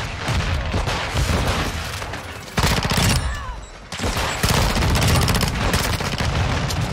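Rapid automatic gunfire from Modern Warfare 2, a PDSW 528 (P90) submachine gun among other weapons, with dense sustained bursts, a brief lull near the middle, then heavy firing resuming loud and close.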